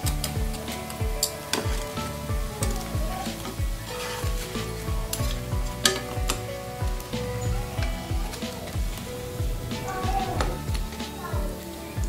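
Cauliflower pakoras sizzling in hot oil in a pan, a dense steady crackle with the clink of a utensil stirring and scraping the pan now and then, close by.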